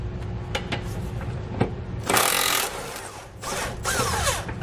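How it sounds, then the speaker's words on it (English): A power tool with a 21mm socket removes frame bolts on a 2014 Dodge Durango during a rear hitch installation, heard as loud whirring bursts over a steady background hum, close with no talking. "To remove all the bolts, we're going to be using a 21mm socket."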